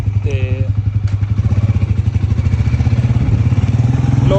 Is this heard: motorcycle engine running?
yes